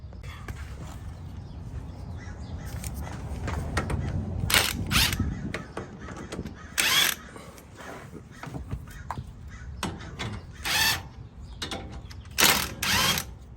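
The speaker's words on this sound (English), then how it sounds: "I'm gonna loosen all those bolts right there." A ratchet wrench clicks in repeated bursts while loosening bolts on front KDSS sway bar clamps of a vehicle, close and fairly loud, with pauses and handling noises between turns.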